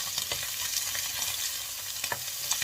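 Garlic fries in a pan, with shrimp already cooked, giving a constant close sizzle and a few light scrapes and taps of the spatula.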